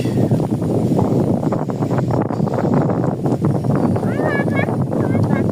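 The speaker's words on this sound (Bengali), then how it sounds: "বাতাস হচ্ছে প্রচুর" Strong gusty wind before rain roars continuously and loudly across the microphone as a dense, rumbling rush with no pauses, while faint bird chirps rise through it near the end.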